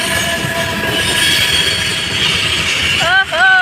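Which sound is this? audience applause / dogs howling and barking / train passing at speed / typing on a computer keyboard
train passing at speed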